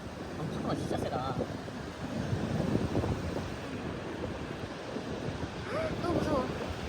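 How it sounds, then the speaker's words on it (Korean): Strong ocean waves crash and roar along a windy winter shore at Sokcho, with steady heavy surf and gusty wind buffeting the microphone while people talk faintly nearby. "파도가 진짜 세다."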